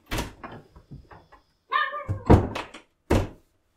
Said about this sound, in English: I'm walking out of the door